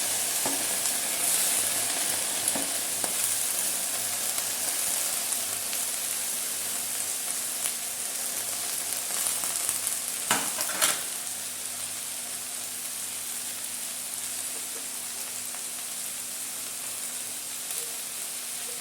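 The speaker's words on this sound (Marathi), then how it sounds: "आपण याच्यामध्ये घेतलेली स्वच्छ मेथीची भाजी मेथी टाकून घेऊ" Fenugreek leaves frying in a pan over a low flame, a steady, even hiss and sizzle sustained throughout, with a few sharp utensil knocks near the middle, close up and without speech.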